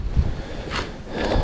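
Gusty wind buffets the microphone with rough, rushing bursts that swell and ease, loud and close, while fishing on the Moksha River in Mordovia in October.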